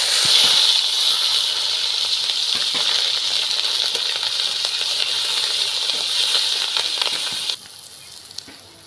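Onion paste with black cumin seeds goes into hot oil for a fish curry, making a loud, steady, bright hiss that runs unbroken for several seconds before dropping off sharply near the end.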